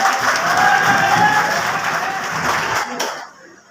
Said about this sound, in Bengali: যেই রকম জোরে চিৎকার দিলেন হাততালি দিলেন